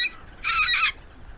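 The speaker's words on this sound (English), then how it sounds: "However, the bird responds with a tremendous screech," Seagull screech sound effect in an animated horror manga narration set at a lighthouse: one loud, harsh, raspy call lasting about half a second, standing alone against a quiet background.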